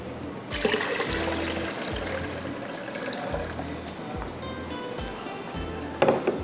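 Water poured into a glass of banana and cream dessert mixture with lemon juice and black salt, a steady trickling splash close by that runs throughout with faint background noise.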